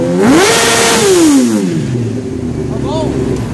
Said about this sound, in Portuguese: Tira de giro.